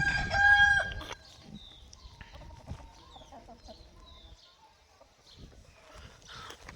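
A tall-legged multicolour rooster kept in a home flock gives one loud, close crow at the start. Quieter clucks and faint bird sounds follow over a still background.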